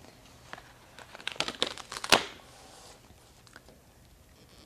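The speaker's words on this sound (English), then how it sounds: "So go ahead and just peel those off" Gold foil scrapbooking stickers crinkle and crackle as they are peeled from their backing sheet, a cluster of soft close rustles building to one sharper tearing crackle near the middle, then fading.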